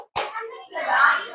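Children clap their hands once or twice in a classroom, close and fairly quiet, in a short burst with a faint murmur of young voices.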